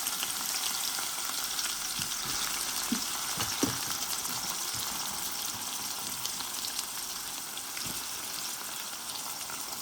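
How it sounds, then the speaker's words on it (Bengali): White onion fries in oil with cumin seeds, a soft, even sizzle throughout with a few faint clicks of stirring, fairly quiet and steady. "পেঁয়াজটা একটু ভাজি হইল"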